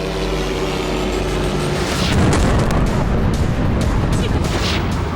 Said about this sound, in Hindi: ओडेसा में सबसे बड़ा धमाका बिजली सब स्टेशन पर ड्रोन गिरने के बाद हुआ।